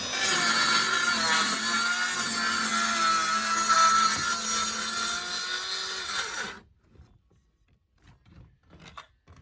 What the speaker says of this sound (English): You can't beat a battery powered little saw like this.